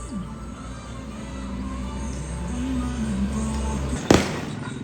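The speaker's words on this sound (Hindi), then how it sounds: "वो भी शायद आपने देखा होगा सामने पटाखे चल रहे हैं।" Firecrackers go off in a street funeral procession in Kanyakumari, India: one sharp, loud crack stands out against a steady bed of crowd and traffic noise.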